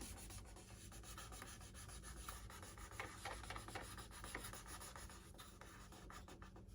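Covering film being rubbed by hand onto a Dynam Beaver V2 1500mm model plane, a quiet, continuous scratchy rubbing with repeated back-and-forth strokes and no talk.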